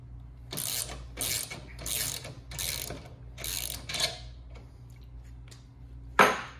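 Husky socket ratchet turning a recessed nut, giving five rapid bursts of clicking pawl strokes in a steady rhythm, close and clear, followed by a few faint ticks and one sharp metallic clack at the end.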